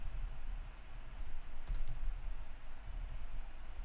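Fingers type on a computer keyboard while web code is written, a quick run of soft key clicks clustered in short bursts, close and quiet with no voices.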